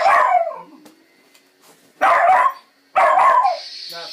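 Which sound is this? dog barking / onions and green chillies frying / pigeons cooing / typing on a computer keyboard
dog barking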